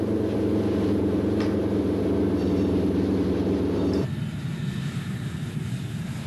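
Czechoslovak-built L-29 Delphin jet trainer in flight, a loud steady engine roar with droning tones that drops abruptly to a lower, rougher rumble partway through, no voices.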